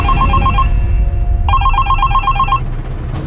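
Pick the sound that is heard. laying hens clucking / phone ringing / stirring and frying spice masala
phone ringing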